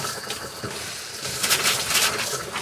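Water runs from the sink tap in a camper, a close, splashy gush that builds louder toward the end and plays on its own without speech.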